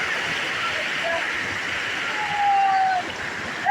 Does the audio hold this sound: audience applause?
no